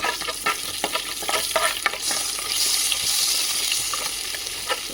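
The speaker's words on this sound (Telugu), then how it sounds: "ఆవాలు, జీలకర్ర తాలింపు కింద వేసుకోవాలండి." Mustard and cumin seeds sizzle and pop in hot tempering oil, with crisp crackles and bursts scattered through a steady hiss, loud and close, no voices.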